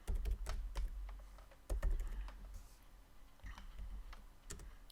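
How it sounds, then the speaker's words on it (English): Fast typing on a computer keyboard, with close, crisp key clicks in irregular bursts and a few heavier thumps, alone with no talk. "I'm going to type the text that we are going to be clicking over"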